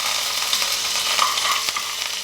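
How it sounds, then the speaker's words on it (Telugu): Tempering spices and curry leaves for a chutney sizzle loudly in hot oil, a dense, continuous close crackle and hiss with a few faint stirring touches. "ఇదిగోండి పచ్చడికి తిరగమాత దినుసులు తాలింపు వేసుకుని రెడీగా పెట్టుకుందాం"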